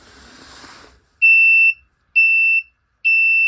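A PIR motion sensor light's built-in alarm sounds three loud, steady electronic beeps, each about half a second long, spaced evenly after a brief stretch of faint background noise.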